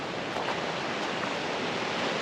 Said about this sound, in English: waves crashing over the rocks on the beach